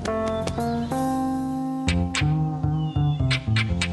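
A cat meows repeatedly up close, loud drawn-out tonal cries following one another in a rapid series with short breaks between them.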